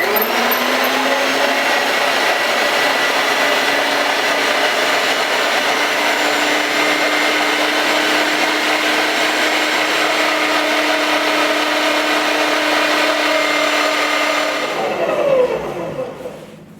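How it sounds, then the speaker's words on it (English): An electric meat grinder running steadily on a fine second grind of bratwurst sausage meat, a loud continuous motor whine held for about fifteen seconds before it winds down and stops. "we're going to do the second grind on the sausage, on the meat actually"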